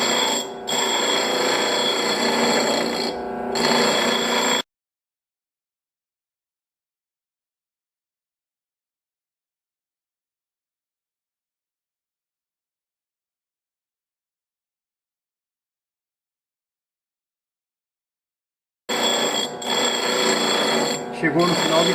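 A drill bit sharpening machine grinds in two short bursts, a bright buzzing whir at the start and end separated by a long stretch of silence, with a voice talking over it.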